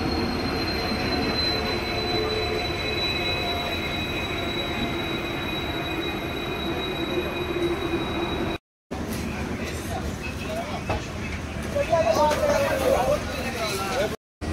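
A delayed train pulls into a railway platform on the way from Howrah to Ghatshila with a loud rumble of carriages and high, drawn-out wheel squeals, while people chatter nearby.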